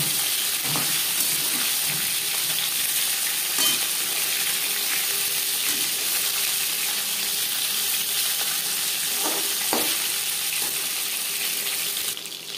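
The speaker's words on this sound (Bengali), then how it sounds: "একটা সাইড ভাজা হয়ে গেলে অপর সাইডটা উল্টে দেবো" Chitol fish fillets frying in oil in a pan give a steady, loud, close hiss of sizzling that runs unbroken throughout, with a few faint knocks and stirring sounds scattered beneath it and no voices.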